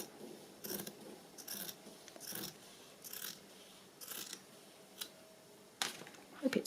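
Scissors snip through paper along a line for a bird journal, a steady series of crisp, close cuts roughly every second, with a few small handling clicks near the end.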